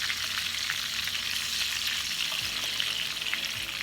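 Onions and white meat fry together in a pan, giving a steady, even sizzle at moderate volume with faint stirring and no voices.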